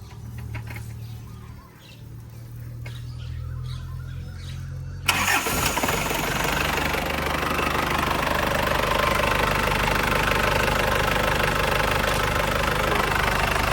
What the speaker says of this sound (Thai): ดี๋ยวติดเครื่องให้ฟัง